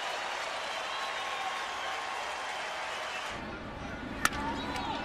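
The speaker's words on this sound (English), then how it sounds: "he is getting an ovation from the enemy crowd" A stadium crowd of opposing fans gives Cal Ripken of the Orioles a standing ovation, a steady broad roar of cheering and clapping that holds throughout, with a sharp crack near the end.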